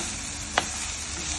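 Sandge curry stirred in a pan, a continuous near sizzle of frying broken once by a single sharp scrape of the spoon.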